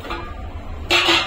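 A pressure cooker whistles on a gas stove while pigeon pea pods boil in salted water, a short steady tonal hiss rising louder near the end over a low background.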